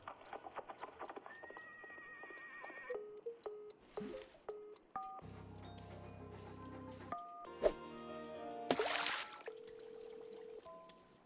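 A horse whinnies in the tea-making video game Wanderstop, a clear neigh with hoof clops, set among quiet chiming game sounds and effects at moderate volume.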